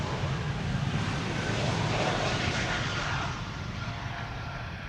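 A Cathay Pacific Airbus A350 moves at Amsterdam Schiphol, heard as a fairly quiet, steady jet rumble that drops slightly toward the end.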